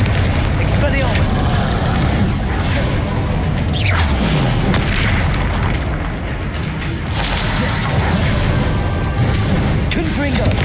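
Repeated Confringo fire-spell blasts in Hogwarts Legacy boom and thud through a dense, continuous battle mix, with a voice shouting spell names over the chaos.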